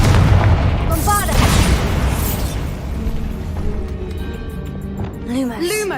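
Bombarda spell blast in the Hogwarts Legacy video game: a deep, heavy boom with rumbling debris, followed by rising magical whooshes, with voices talking over the game effects.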